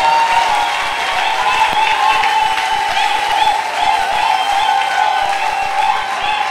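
A church congregation applauds and cheers together in a loud, sustained, dense wave of clapping and voices.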